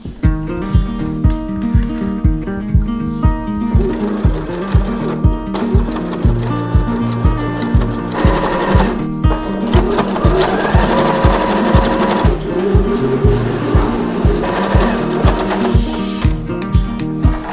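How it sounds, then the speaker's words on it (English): A sewing machine stitches a sweatshirt bag closed at close range, its needle clattering in a fast, even rhythm with brief pauses and speed changes. "I'm going to sew this closed on the sewing machine."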